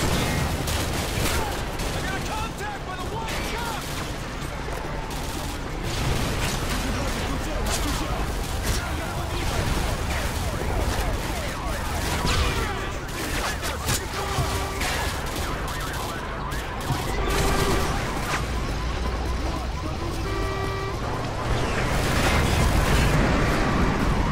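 Dense, continuous gunfire and explosions from the PC video game Call of Duty Modern Warfare 2, including RPG fire and a sentry gun in a battle, loud throughout with voices talking over the combat.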